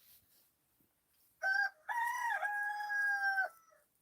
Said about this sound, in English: And there's not just one rooster.